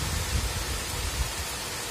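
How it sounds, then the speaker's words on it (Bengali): Heavy rain pours down in a Sundarban village, a dense, steady roar of falling water with no gaps, close and enveloping, and no one speaking. "প্রচুর পরিমাণে এখন এত বৃষ্টি এসছে যে আর দাঁড়ানোই যাচ্ছে না"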